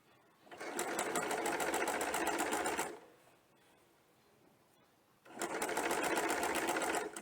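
A sewing machine stitches pin tucks in fabric with a rapid, even mechanical clatter in two close bursts, with a quieter lull between them.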